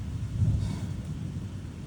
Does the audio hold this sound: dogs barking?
no